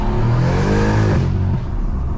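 A tuned BMW M140i, around 550 bhp, revs hard with a loud, rising engine note, then the throttle is lifted and the pitch sweeps down through a second-to-third gear change before settling into a quieter hum.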